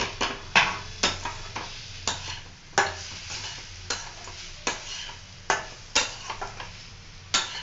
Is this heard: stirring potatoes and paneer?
yes